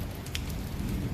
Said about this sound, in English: Rain drummed relentlessly on the roof